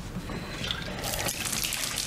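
Liquid pours and splashes into a bowl for a dog in a scene from Blade Runner 2049, a steady trickling stream that grows louder and brighter partway through, with no talking.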